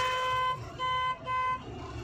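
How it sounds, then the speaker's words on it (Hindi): Two car horn honks, a longer blast then a shorter one, loud and close, with engine noise underneath. "चलो हॉर्न बजाओ इनको"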